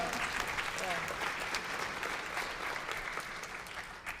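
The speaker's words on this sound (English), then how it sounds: "Let's hear a round of applause." An audience at a college academic year kickoff event breaks into sustained, dense applause that holds steady throughout, a continuous wash of clapping from many hands.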